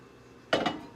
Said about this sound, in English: Now I'm going to place it in my microwave